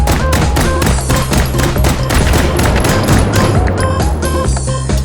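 Rapid gunshots from an unsuppressed M9A1 pistol in the VR shooter Hot Dogs, Horseshoes and Hand Grenades, with loud, close, sharp reports fired in a quick, fairly regular series over a dense backdrop of thuds and echoes.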